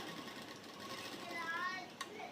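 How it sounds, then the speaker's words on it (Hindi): A sewing machine stitches the side seam of a salwar with a steady, fast mechanical whir that runs throughout at low volume. "एकदम साइड में सिलाई लगानी है"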